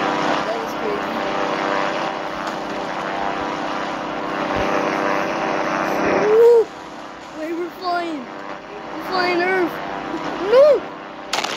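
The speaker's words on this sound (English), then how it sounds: "The big plane." A big airplane flying in a video game, its steady engine drone and propeller hum loud and close, then fading, while voices talk over the later part.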